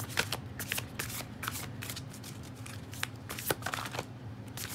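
Tarot cards being shuffled in a spell-casting reading, a steady stream of quick riffling flicks and soft slaps close up, with a low background hum and no talking.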